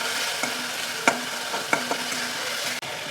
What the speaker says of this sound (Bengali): এবার মশলাটা কষা হয়ে গেছে